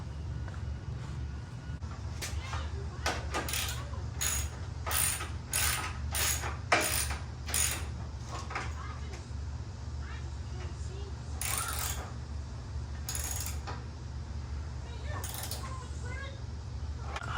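A hand ratchet tightens the radiator mounting on a Honda DC2, making quick bursts of sharp metallic clicks in uneven groups over a low steady hum, close and fairly quiet.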